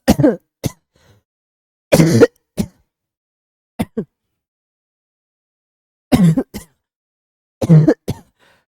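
Several short, sharp coughs and throat clearings come in scattered bursts, close by, separated by silence.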